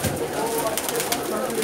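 Many Pakistani pigeons in a big Jeddah loft keep up a thick, overlapping cooing drone, nearby and even in loudness, with no clear pause.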